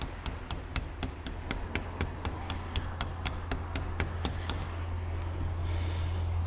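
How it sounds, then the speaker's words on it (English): A rubber hammer gently taps a rear wheel bearing seal into a Toyota Hilux, a steady series of soft, evenly spaced taps over a low background hum. "very gently with a rubber hammer"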